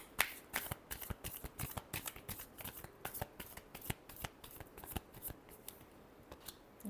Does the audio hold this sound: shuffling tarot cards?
yes